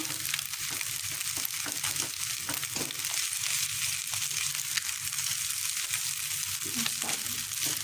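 Stirring ingredients in a frying pan for a toddler's omurice fried rice with egg, carrot, shallot, garlic and potato, heard as a constant hiss of frying under irregular spatula scrapes.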